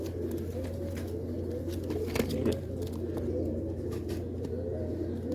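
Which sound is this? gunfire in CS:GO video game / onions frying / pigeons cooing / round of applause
pigeons cooing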